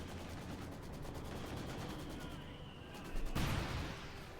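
Rapid machine gun bursts crackle on and off in a Company of Heroes 2 battle between OKW and Soviet forces, with a heavier field gun blast landing near the end, all fairly faint and mixed into the battlefield din.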